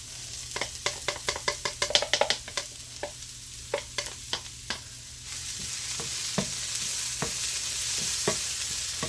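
Garlic sizzles in a hot frying pan while being cooked for a homemade freezer meal, with a string of sharp utensil taps and scrapes giving way to a steady, close frying hiss.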